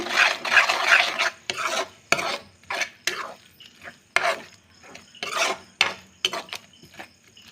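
A spatula scraping and stirring scrambled egg bhurji in a pan, with repeated short rasping strokes at an uneven rhythm, close and distinct, with no talking.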